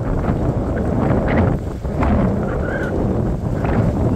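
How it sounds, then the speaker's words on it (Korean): Strong, cold wind buffets a fishing boat out on the water while jigging for webfoot octopus and cuttlefish, a steady, loud rushing roar with gusting swells and no talk. "바람 소리도 장난이 아니에요"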